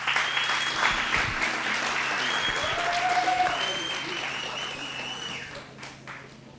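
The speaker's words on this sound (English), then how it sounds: "Please give him a round of applause." An audience at a school of specialisation event for commerce and entrepreneurship gives a steady round of clapping that runs for several seconds and then tapers off, with faint talk underneath.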